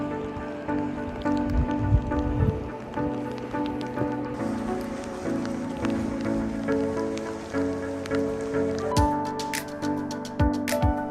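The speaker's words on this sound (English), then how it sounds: "the rain wasn't too heavy and actually felt quite pleasant to cool us down after a very humid morning" Steady light rain falls on a misty coastal path near Baggy Point, a continuous soft patter with occasional louder drips and rustles close by, no voices.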